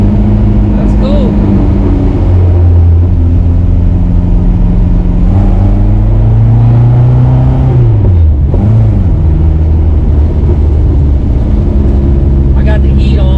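A supercharged 1971 Volvo 1800E four-cylinder with a T-5 transmission and Posi rear end runs loud and close, its engine note rising and falling through revs and a dip with people talking over it.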